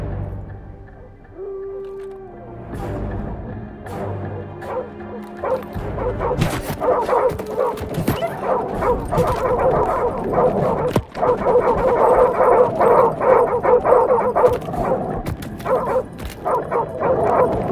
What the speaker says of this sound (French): Laisse tomber, c'est un chien sauvage.